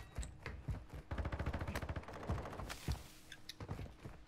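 Rapid automatic gunfire in Call of Duty Modern Warfare 2 ranked play, dense bursts of shots against the clatter of keyboard and mouse, loud and close, with no speech.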